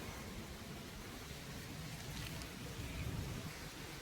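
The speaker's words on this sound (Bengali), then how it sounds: "জোরে বৃষ্টি আরম্ভ হয়ে গেছে।" Heavy rain pours down in a constant, even hiss, faint and steady with no breaks, heard from indoors after coming in out of the downpour.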